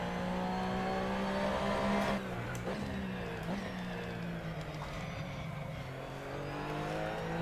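Porsche race car engine in a sim racing game holds a steady, loud drone with a sustained harmonic whine, dipping briefly as if shifting, then building again as it accelerates out of a corner, with no voice over it.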